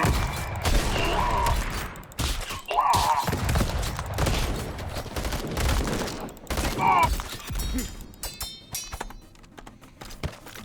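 Machine gun fire in the Madness: Project Nexus video game, dense bursts of rapid shots layered with impacts and game effects, loud and busy, thinning out toward the end.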